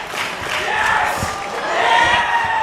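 Loud, sustained crowd noise at a live indie wrestling event, with fans cheering and shouting in a swelling roar that rises toward the end, filling the arena without pause.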